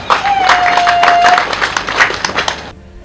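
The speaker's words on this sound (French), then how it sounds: "pour qui je demande une salve d'applaudissements spéciaux." Applause breaks out at a public ceremony in Batcham, Cameroon, launching phase two of a HIMO labour project, with a crowd clapping loudly and steadily for nearly three seconds before cutting off abruptly, a faint tone running through it.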